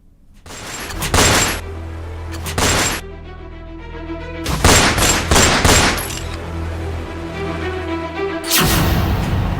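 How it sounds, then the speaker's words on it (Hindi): Rapid bursts of gunfire from a gang war, dense volleys of many rounds cracking loudly in clusters with brief gaps between, sharp broadband blasts repeating across the stretch with echoing tails. "पचास राउंड फायरिंग"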